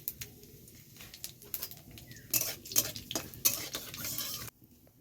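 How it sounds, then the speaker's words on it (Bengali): Panch phoron and two dried red chillies hit hot oil in a pan, giving a busy crackling sizzle mixed with metal stirring clatter, louder in the middle bursts and fading near the end. "এই তেলেতেই এবার পাঁচ ফোড়ন ফোড়ন দিলাম আর দেব দুটো শুকনো লঙ্কা"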